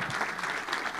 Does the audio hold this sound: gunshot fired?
no